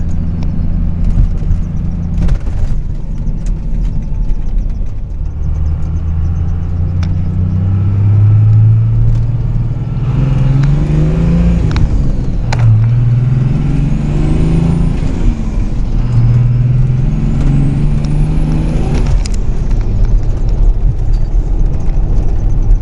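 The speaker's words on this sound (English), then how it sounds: "we are just driving around a little bit, getting up to operating temperature" A 1998.5–2002 Dodge truck with a Cummins 24V diesel and 6x.016 SAC injectors drives around, its low engine note rising and falling with several gear changes, loud and close with a faint whine near the end.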